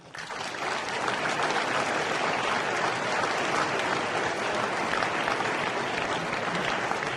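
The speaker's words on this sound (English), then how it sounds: "A big round of applause for your language heroes." A seated audience at a talk on learning languages claps in dense, sustained applause that starts abruptly and holds loud and even to the end.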